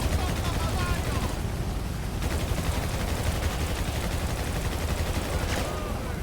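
Dense, continuous gunfire in GTA V, rapid bursts layered over a loud noisy battle mix with no pauses.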